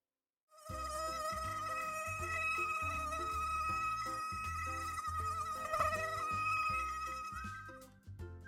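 A mosquito's thin, whining buzz drones steadily for several seconds, close and continuous, with faint background music under it.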